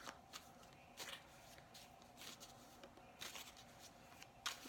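Tarot cards are shuffled by hand in quick soft riffling bursts, close and quiet, repeating at irregular intervals with brief pauses between.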